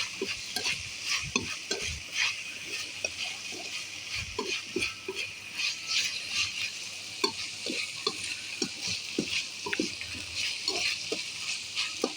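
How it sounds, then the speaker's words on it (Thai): Pork belly with garlic and oyster sauce is stir-fried in a pan, with a loud sizzle and repeated scraping and clacking strokes of a spatula in an irregular, busy rhythm, close by and with no voices. "ผัดหมูกระเทียมหมูสามชั้นนะจ๊ะ น้ำมันหอย"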